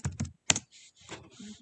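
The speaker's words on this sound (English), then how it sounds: "here I'll type in Agri." A handful of quick keystrokes on a computer keyboard, close and fairly soft, come in a short burst followed by a few lighter taps.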